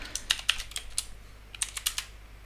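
Code being typed on a computer keyboard, with quick, irregular bursts of crisp, close key clicks and short pauses between, and no talk.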